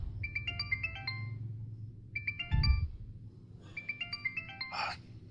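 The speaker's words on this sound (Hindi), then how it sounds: "तुम्हारा फोन बज रहा है" A phone ringtone plays a bright, repeating chime melody in short bursts, with faint background rustle between phrases.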